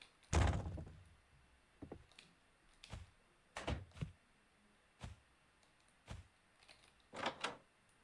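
Door opening in a scary first-person horror video game, heard as a series of sharp thuds and knocks spaced a second or so apart, with a louder opening impact and a final double clatter, fairly quiet overall.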